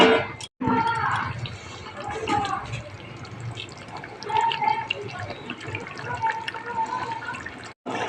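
Pieces of fish slid into a boiling, thickened curry gravy made with only a little water, giving a continuous busy bubbling and splashing texture that lasts throughout, with a faint voice in the background.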